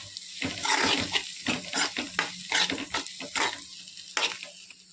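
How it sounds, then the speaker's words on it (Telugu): Ginger garlic paste sizzles in hot oil while fried rice with egg and chicken is stir-fried, with a steady hiss broken by repeated scraping strokes of a spatula against the pan, close and without talk. "ముందు వేసుకుంటే అడిగంటేస్తుందండి, అందుకని ఇప్పుడు వేసుకుని కొంచెం ఆయిల్లో మగ్గనిస్తే సరిపోయింది"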